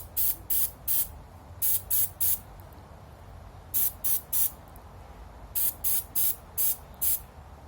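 Short hissing bursts of DuraBlue gun finish from a spray can onto small rifle parts come in quick groups of two to four, sharp and close against a quiet background.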